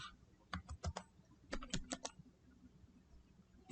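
Keys tapped on a computer keyboard while entering a command to open PowerPoint, two quick bursts of several close, crisp clicks separated by a pause, with one last keystroke at the end.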